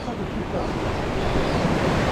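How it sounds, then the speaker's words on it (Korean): Ocean surf washes in while fishing, with a broad, rushing roar and wind noise on the microphone, steady and close. "파도가 들어오면"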